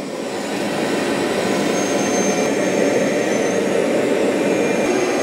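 A Roborock Q5+ robot vacuum works its suction on a tall rug, making a loud, steady roaring whoosh that rises slightly as it ramps up and holds close and continuous throughout.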